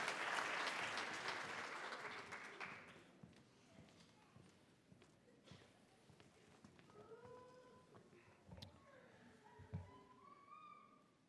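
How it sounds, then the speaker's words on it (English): An audience applauds award recipients at a university commencement ceremony, the clapping loud at first and then thinning out to scattered claps, with some murmuring in the crowd. "let's give a big round of applause for our Alfred Dreyfus Student of the Year Award recipients"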